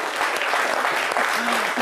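A studio audience on a midday French-language TV show claps for surprise guests, a short burst of dense, even applause.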